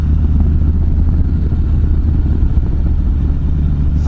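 A Harley-Davidson Street Bob motorcycle engine rumbles steadily and loudly up close, a deep continuous drone with no talking.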